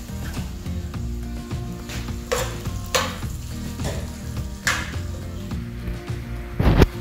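Carrots, chicken and onion fry in a pan with a steady, close sizzle, and a utensil stirs and scrapes through the mix at intervals. No one speaks.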